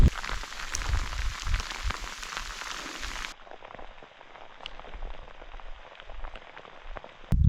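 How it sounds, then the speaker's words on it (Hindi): Rain falling steadily on a mountain hiking trail, a constant close patter of drops with occasional louder splashes, unaccompanied by voices. The sound drops noticeably in level partway through. "अब बारिश शुरू हो गई है।"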